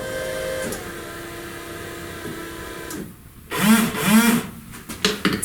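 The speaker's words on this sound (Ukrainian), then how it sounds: "Моторчик зажужжав." The small electric washer pump motor of a car buzzes steadily at first, then changes to louder, uneven whirring bursts in the last two seconds, with no talk.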